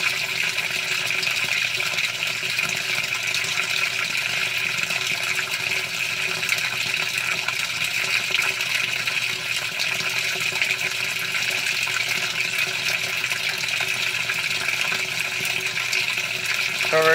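Whirlpool Cabrio top-load washing machine filling its drum with water, a steady rushing gush of water that runs continuously and evenly throughout, close by and alone.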